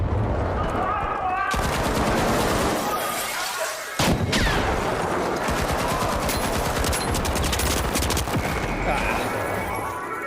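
Rapid light machine gun bursts in The Finals, loud sustained automatic fire with a brief pause near the four-second mark, then continuous rattling volleys with scattered impacts.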